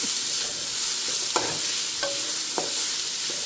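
Chopped carrot with cashews and raisins sautéing in ghee, a steady sizzle broken by a few sharp scrapes and clinks of a spoon stirring the pan, close up with no talking.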